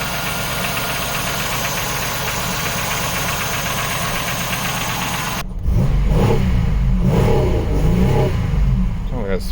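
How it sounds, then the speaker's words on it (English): A GM U-body minivan engine is held against its rev limiter, first a steady high buzzing drone, then a lower, choppy bouncing revving as the limiter cuts in, loud and close with talk partly over it. "Oh, that's some sort of rev limiter, to be honest."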